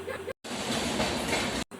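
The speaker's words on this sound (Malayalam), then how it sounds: "ആ ട്രെയിൻ ഇതാ പോവുകയാണ്" A large train passes with a dense, broad rumbling roar that fills the clip. Two short dropouts interrupt the sound.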